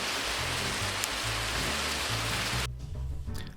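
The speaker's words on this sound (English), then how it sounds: "raining cats and dogs," Heavy rain pouring down in a dense, constant roar with a low rumble underneath, easing slightly at the end.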